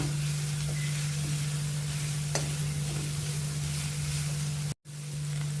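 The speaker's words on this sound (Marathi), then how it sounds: "या भाज्या आपल्याला चांगल्या परतून घेऊ द्यायच्या आहेत" Mixed vegetables being sautéed for a homemade potato veg cutlet, giving a steady close hiss and sizzle with a constant low hum and a few faint scrapes, broken by a brief dropout near the end.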